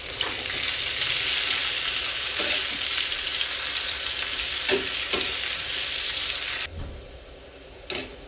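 Mutton sautéing with plenty of coriander stalks in a pan for a Khandeshi-style dish gives a loud, steady sizzle with occasional stirring scrapes, and the frying drops off sharply near the end.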